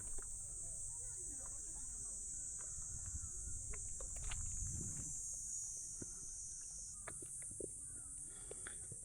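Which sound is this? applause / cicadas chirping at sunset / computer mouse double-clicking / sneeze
cicadas chirping at sunset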